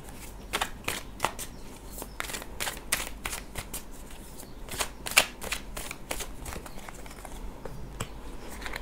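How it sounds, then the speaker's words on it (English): Tarot cards being shuffled for a reading, a steady run of crisp riffling flutters and soft slaps repeating close by for several seconds with no voice. "please just be patient a moment as I draw the cards for you."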